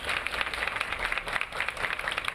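Students and teachers at a school clap for a passing funeral procession in Caxias. The short burst of crowd applause is dense and continuous, with rapid overlapping claps close by.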